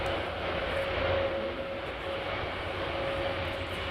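Jet aircraft flying at an air show, a steady loud broadband roar with a sustained whining tone running through it, continuous and fairly close throughout.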